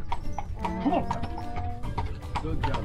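A horse's hooves clip-clop in an irregular rhythm nearby as it pulls a jaunting car at Killarney, with a brief whinny-like squeal partway through and someone speaking briefly.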